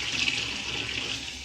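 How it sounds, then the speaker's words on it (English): Water drains from a pot of boiled pig's tail into a kitchen sink while Jamaican stew peas are being made, a steady close rush of pouring and splashing water with no pauses and no voices. "We're about to drain off the extra water."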